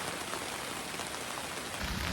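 A steady roar of heavy rainfall at a campsite in Tagaytay, dense and unbroken, with close drops splattering throughout the short stretch.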